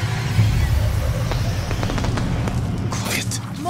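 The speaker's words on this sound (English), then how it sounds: "More fireworks to the west." Fireworks in the video game Ghost of Tsushima pop and crackle in scattered bursts over a steady low rumble of game ambience, with a few sharper cracks clustering toward the end.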